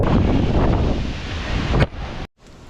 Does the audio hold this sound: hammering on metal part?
no